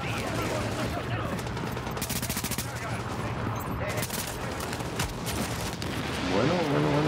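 Sustained gunfire in the video game The Division, dense bursts of automatic shots and fusillades running throughout at steady loudness, with a voice speaking intermittently underneath.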